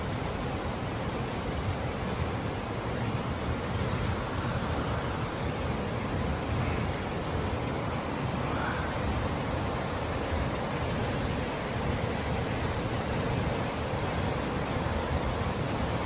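Jaein Falls pours in a constant, dense roar of rushing water, a broad steady wash with no breaks, loud and unvarying from start to finish, without voices.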